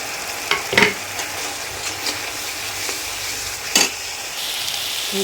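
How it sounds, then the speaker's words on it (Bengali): Turmeric, cumin, coriander and garam masala powders fry in hot oil for a Bengali fish curry with a loud, even sizzle, broken by a few quick scrapes of a spatula across the pan. No one talks. "এখন মশলাটা আমার ভাজা হয়ে গেছে, পুরো তেল ছেড়ে দিয়েছে"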